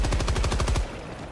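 Rapid automatic gunfire from an on-foot weapon in the space game Star Citizen, a loud burst of about a dozen evenly spaced shots that cuts off abruptly, leaving a low lingering rumble.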